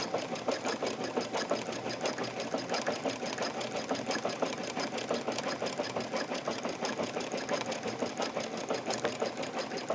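A sewing machine stitches yarn down onto a pillow top in a fast, steady rhythmic chatter of needle strokes, running unbroken and fairly close with no voices.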